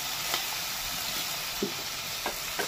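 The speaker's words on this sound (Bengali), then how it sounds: "এবার এই তেলের মধ্যে গোটা গরম মশলা দিয়ে দিচ্ছি, দারচিনি আর ছোট এলাচ।" Whole garam masala spices, cinnamon sticks and green cardamom, fry in hot oil left over from frying chicken, giving a soft steady sizzle with a few faint clicks and stirs, quiet and without talk.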